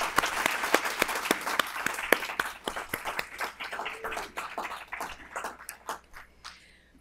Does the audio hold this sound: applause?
yes